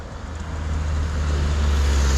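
A 2019 Yamaha Majesty 155 S scooter engine held at high revs with a smoking exhaust, a steady low droning hum that swells slightly louder toward the end, close by.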